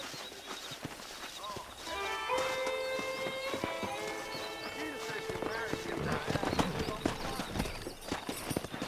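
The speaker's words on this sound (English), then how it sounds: "Let's see if we can't wrangle some horses" Horse hooves in Red Dead Redemption clip-clop in a steady rhythm while people talk over them, with a sustained tone ringing in the background.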